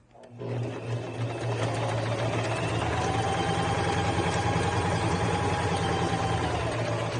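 A Singer 6263 sewing machine runs steadily through fabric, a close, continuous mechanical whir with a fast rhythmic stitching pulse that holds for several seconds after a quick start.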